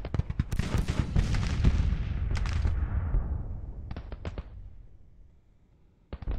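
Artillery fire in the Grand Tactician: Civil War strategy game: a rapid cluster of loud cannon booms and crackling blasts rolling into a long rumbling decay, then a few sharper reports and one more close boom at the end.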